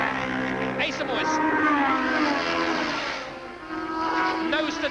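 Ducati racing motorcycles lapping Mallory Park in a classic race, engines roaring loud and close with rising and falling pitch as riders blip the throttle and change down, while a commentator talks over the noise throughout.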